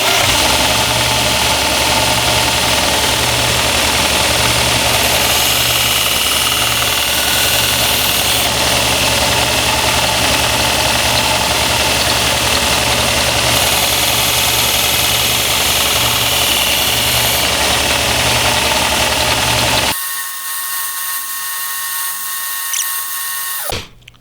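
A knife is sharpened on a 1x30 belt grinder with a 220-grit belt, giving a loud, continuous, close whir and hiss for about twenty seconds before it drops off to a quieter hum.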